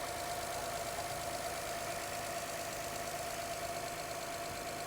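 An Acura 3.7-liter engine idles steadily after a jump start, with a constant even hum and slight knocking texture throughout, heard close and alone.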